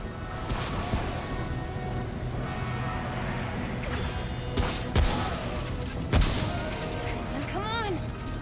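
Shotgun blasts in the video game Remnant: From the Ashes, a few heavy booming shots spaced among constant game noise and a person talking.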